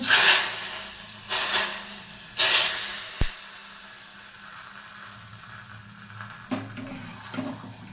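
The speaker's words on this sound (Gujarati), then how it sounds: "આ બધો વઘાર છે તે આપણે કટરીમાં એડ કરી લેશું" A hot tempering (vaghar) is poured into kadhi, setting off several loud bursts of hissing sizzle along with a sharp clink of metal. The sound then fades into a quieter simmering hiss with a few small spits, and no one speaks.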